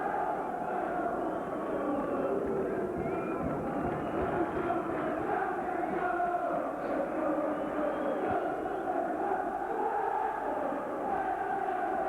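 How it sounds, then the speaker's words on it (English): A steady, dense roar from the football crowd at Port Vale versus Stoke City in 1996, with Stoke City's supporters raising the noise. It holds loud and unbroken throughout, with no clear breaks. "Stoke City's crowd, Stoke City's followers, the supporters are picking the noise up, level up now"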